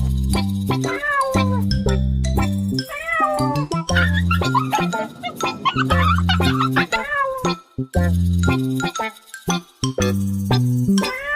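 A cat meows over and over in a loud, steady sequence of separate calls, with repeated short tonal cries and a faint clinking jingle alongside.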